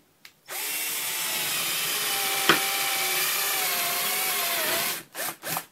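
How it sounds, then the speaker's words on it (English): A Hitachi 10.8V lithium 3/8-inch cordless drill whines at a steady high speed for about four seconds as it bores through metal, with a sharp click midway and brief bursts at the end. "I'm going to put that in high speed when you're drilling with metal."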